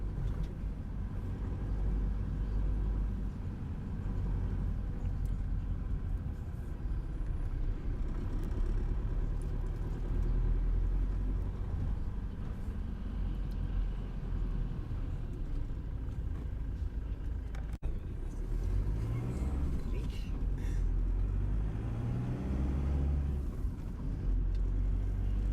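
A Glasgow city bus on the Route 38 service rumbles along continuously from inside, its low engine drone steady with a brief shift and a rising engine note near the end as it moves through the streets.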